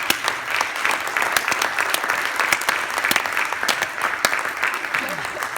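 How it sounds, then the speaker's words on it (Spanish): A church congregation applauding during a sermon, a dense sustained round of clapping from many hands, loud and close, with voices mixed in underneath. "Den un aplauso al Señor."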